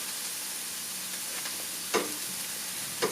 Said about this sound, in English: After sauteing those for a good while